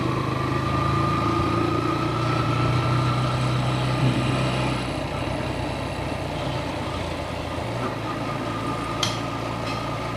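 A motorcycle engine drones steadily while riding on an open stretch of road, a continuous close hum with low rumble that shifts only slightly in pitch throughout.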